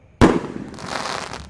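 An 8-shot Roman candle firework goes off on a festive Ramadan takbiran night, with one sharp loud launch bang followed by a long crackling, hissing burn trailing off, and no talk.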